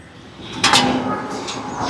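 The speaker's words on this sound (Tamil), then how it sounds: "மூடி விடுவோம். உலை கொதிக்கட்டுக்கும்," A lid is set onto a cooking pot with a single sharp clatter, followed by a softer knock against a quiet room background.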